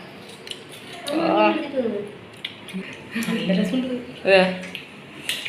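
A lid clinks down onto a cooking pot of bilimbi roast, with a few metallic clatters of utensils and cookware while someone talks over it.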